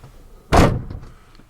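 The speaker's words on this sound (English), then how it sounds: "close the door" A single solid thunk as the door of a Saleen S7 supercar swings shut, loud and close, with a short dull rumble trailing off into quiet cabin air.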